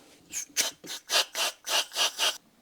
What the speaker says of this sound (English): The reamer is through. Now just needs to clean up that hole.